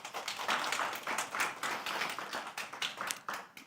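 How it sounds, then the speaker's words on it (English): A small audience claps for an honoree at a healthcare event, the quiet, uneven hand claps pulsing in loose bursts for a few seconds. "A round of applause for Dipti, please."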